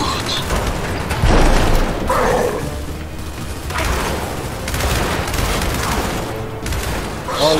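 Heavy bursts of gunfire and explosive booms in Gears 5 co-op combat, a sustained dense barrage with sharp impacts, loud and continuous throughout.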